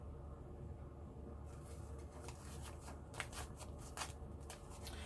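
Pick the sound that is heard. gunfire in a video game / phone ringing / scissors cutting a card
scissors cutting a card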